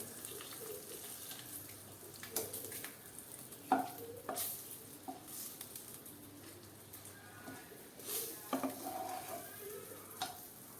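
Faint sizzling of stuffed green chillies frying in a pan, with occasional stirring and clinks of a utensil against the pan over a soft steady background.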